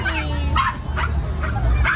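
A dog yips and barks several times in short bursts over a steady low background hum, with faint voices mixed in.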